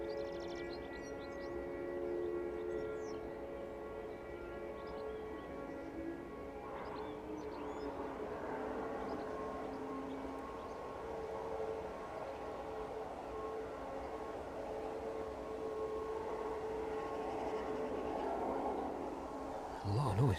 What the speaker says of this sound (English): A lot of noise coming from Malta Air there.